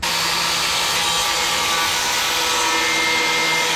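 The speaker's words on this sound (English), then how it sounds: "I do need to grind down some of these welds here" Angle grinder smoothing down welds on the sheet-metal body of a Nissan 240SX under restoration, a continuous loud, harsh abrasive whine held steadily close up for nearly four seconds before cutting off abruptly.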